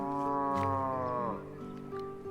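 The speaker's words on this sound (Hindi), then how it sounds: "आपको पीछे आवाजें आ रही होगी पशुओं की" A cow moos in a village farm setting, one long, low, harmonic call that bends downward and fades near the end, fairly close and moderately loud over quiet rural background.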